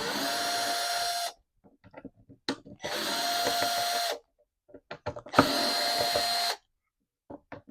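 A drill fitted with a worn number 2 Phillips bit drives screws into a router attachment plate. Three separate close whirring bursts each last about a second and a half, with quiet gaps between them.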